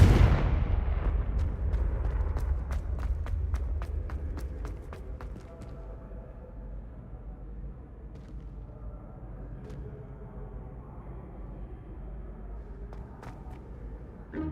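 Confringo fire spell from Hogwarts Legacy bursts with a loud blast, then a run of sharp crackling pops over a fading low rumble that trails off into quieter, scattered snaps.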